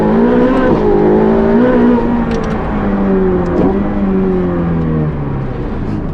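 A 1980s Ferrari accelerates with a steady, loud engine note that rises and falls through the gears, heard close from inside the car with no voices over it.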